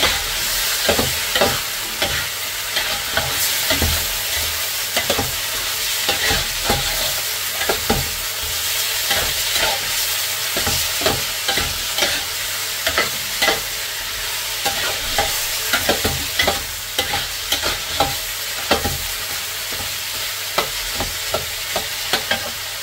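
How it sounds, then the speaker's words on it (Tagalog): Food frying and sizzling steadily in a pan with MSG just added, stirred with a utensil that scrapes and clicks irregularly against the pan throughout, close and loud, no talk. "Halo natin ulit siya."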